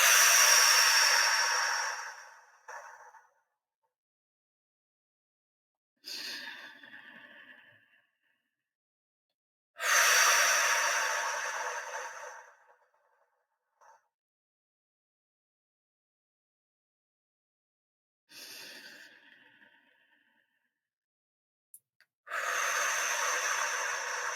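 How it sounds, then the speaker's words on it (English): Slow guided deep breathing in and out, long airy inhales and exhales up close, each breath lasting a few seconds and separated by stretches of near silence, repeating about five times. "We're going to breathe in and we're going to breathe out."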